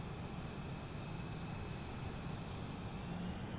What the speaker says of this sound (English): You do hear the vibration from the jet wash